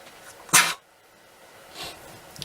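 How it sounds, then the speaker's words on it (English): One sharp, loud sneeze bursts out close by, followed moments later by a softer breathy exhale in an otherwise quiet room. "Oh no, gonna sneeze."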